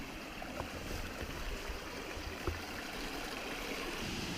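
Long Creek Falls on the Appalachian Trail, a steady broadband rush of falling water and stream flow, even and continuous from a moderate distance, with no voices.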